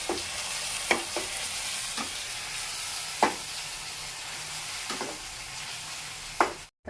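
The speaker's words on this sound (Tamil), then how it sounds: "பார்த்திங்களா நல்லா கொதிக்குது" Tomato masala sizzles and bubbles steadily in hot oil in a pan, with occasional louder pops and stirring clinks over a constant frying hiss.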